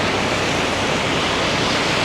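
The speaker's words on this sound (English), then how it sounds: "the ocean is very wild" Wild ocean waves pounding Da Nang beach in Vietnam during a rain storm, heard as a loud, dense, continuous roar of surf and rain noise with no breaks and no voices.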